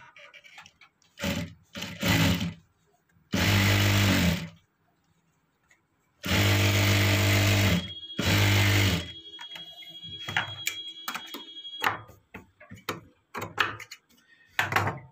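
A sewing machine stitches a frill sleeve, running in several loud bursts of rapid, steady whirring of differing lengths, with quieter clicks and fabric handling between runs.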